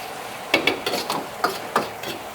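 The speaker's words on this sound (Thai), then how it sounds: "ผัดให้หอมเลยนะ ไม่ต้องรีบมาก เดี๋ยวพริกแกงไหม้นะ" Curry paste and river catfish are stir-fried in a pan, with a spatula scraping and knocking in a loose rhythm of about seven strokes over a faint sizzle, close and fairly loud.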